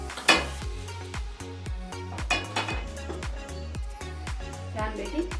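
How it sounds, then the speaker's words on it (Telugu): A pan is set on a lit kitchen stove before deep-frying vadas, giving clinks and scrapes of cookware over a low background hum, with a voice talking throughout. "చూడండి, స్టవ్ వెలిగించి ప్యాన్ పెడదాం."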